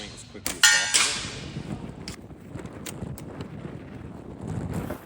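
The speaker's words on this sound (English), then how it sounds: "Pretty windy today." Wind gusting outdoors along a woods archery course, buffeting the microphone with a loud burst near the start, then a softer rushing that swells again toward the end, with a few faint knocks.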